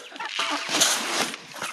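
Egg-laying hens in a backyard flock cluck and squawk busily at close range during feeding time, a dense, continuous chatter of several birds at once.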